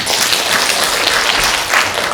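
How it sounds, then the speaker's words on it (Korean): Steady applause from an audience at a pottery and onggi culture symposium, a dense continuous patter of many hands clapping at even loudness. "큰 박수로 모셔보겠습니다."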